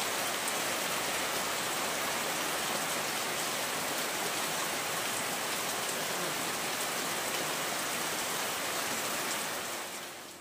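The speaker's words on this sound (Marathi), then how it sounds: "तर जोरदार पाऊस बघा चालू झालेला आहे" Heavy monsoon rain pours down in a steady, dense roar that stays loud and unbroken, fading slightly only at the very end; no voices are present.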